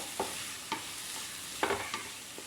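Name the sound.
stirring tomatoes frying in a pan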